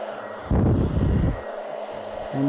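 A hair dryer blows hot air across hair being pulled over a Denman brush, a steady close whoosh that swells louder for about a second as the nozzle angles onto the brush, then settles back to a constant hum.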